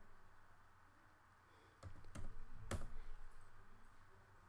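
Typing on a computer keyboard while entering a stock search, a brief run of sharp, close key clicks after a quiet stretch, with no one talking.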